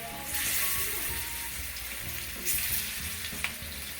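Large pieces of hilsa fish fry in hot oil in a pan on a gas stove, giving a steady close sizzle with a few crackles and spatters, heard alone without speech.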